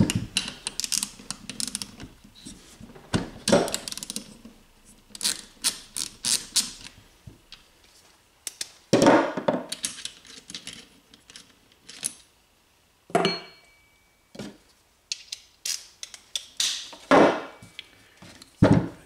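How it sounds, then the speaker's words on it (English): Starter from a 2018–2022 Honda Accord being taken apart, with bursts of small plastic and metal clicks, taps and scrapes as a rubber cap and power connector are pulled off, separated by short quiet gaps. "we're going to remove this power connector because that'll let us remove the rubber boot afterwards"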